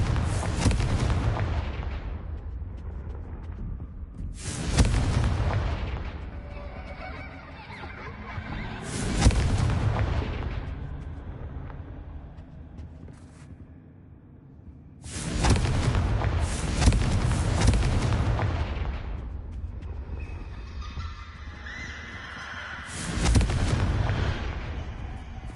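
Confringo explosive spell blasts in the video game Hogwarts Legacy, several heavy booming explosions spaced a few seconds apart, each followed by a rumbling decay, loud and with no talk.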